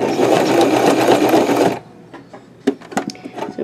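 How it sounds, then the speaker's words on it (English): A sewing machine stitches fabric for a baby girl dress, a loud steady whir that stops partway, followed by a few clicks and knocks as it is turned by hand. "I have to put my hand on the wheel of the sewing machine to get it going."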